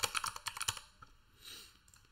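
Computer keyboard typing in a quick close burst of light clicking keystrokes, then a couple of isolated taps and a soft rustle, no talking.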